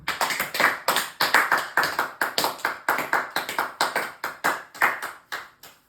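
A church congregation at a Sunday service claps loudly and steadily in a strong rhythmic beat, the sharp claps close and even for several seconds.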